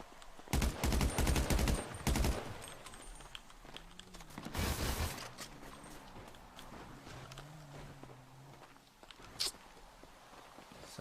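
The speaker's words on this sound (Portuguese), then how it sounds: "Dedé, deu tiro em mim." Gunfire in GTA roleplay during a police shootout: loud bursts of rapid shots early on, a second volley midway, then a sharp single crack near the end over faint voices.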